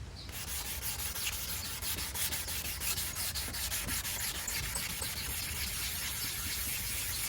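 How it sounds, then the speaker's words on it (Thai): Steady, continuous abrasive rubbing of 320-grit sandpaper against a car headlight lens, a close, even scratchy hiss moving in circular strokes with no talk over it. "การขัดนะครับการขัดแนะนำให้วนนะ ให้วนนะครับผม"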